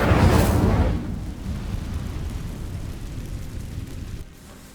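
The Incendio fire spell ignites dry vines in Hogwarts Legacy with a loud whooshing burst that fades into a steady rumbling roar of flames.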